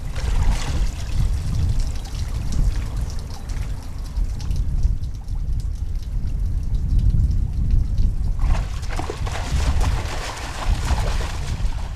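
The falls on McNeil River send a loud, steady roar of rushing water, a dense continuous wash with splashing texture that briefly thins before surging back.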